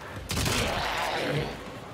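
Gunfire in Warframe, a sharp loud onset followed by a sustained crackling, rumbling stream of shots with a decaying tail, mixed with game effects.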